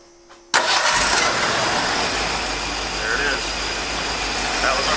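Old, rusty Ford Bronco engine started with the key, a sudden catch after a quiet moment that settles straight into a loud, rough, steady run close by, with a voice over it.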